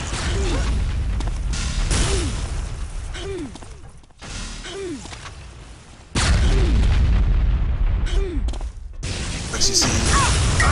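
Repeated booming rocket-launcher blasts in the arena shooter Reflex during a duel on the Aerowalk map, several heavy thuds in quick succession with whooshing projectiles and a dense, loud game mix under a commentator's voice.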